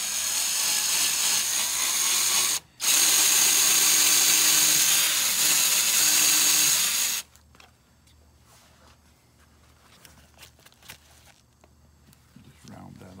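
A power drill bores a hanger hole into the back of a lacquered wooden heart, a loud, close, high-pitched whine lasting about seven seconds with one brief break, then quiet handling noises and light knocks.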